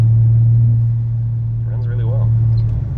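Steady low engine drone from a 1988 BMW 528e while driving, a constant rumble filling the cabin throughout, with a brief voice and faint tonal sounds emerging partway through.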